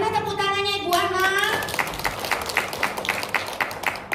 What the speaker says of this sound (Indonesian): Mana tepuk tangannya Ibu Ana?